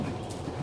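A horse's hooves clip-clop in a brief, faint, steady patter over low background noise.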